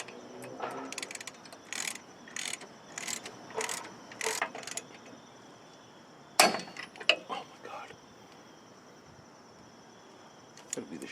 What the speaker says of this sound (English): That'd be the shitty ratchet.